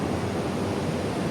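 Steady wind blows outdoors at a scenic viewpoint, a continuous broadband rush and microphone buffeting throughout, fairly loud and close with no talking.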